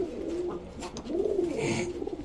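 A pigeon coos close by, low throaty rolling calls rising and falling in two or three phrases; the bird is a female due to lay an egg the next day.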